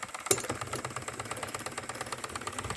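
A Wilesco D409 model steam showman's engine runs close by, giving a steady, fast mechanical chuffing and ticking rhythm with a sharp hiss or clank near the start, no voices.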